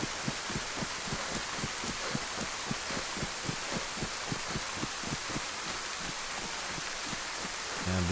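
Steady rain hisses across a survival video game set in the Livonia map, with a regular low thumping pulse running beneath the downpour at a constant, moderate level.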